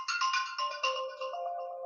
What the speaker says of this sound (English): As my phone is ringing, hold on,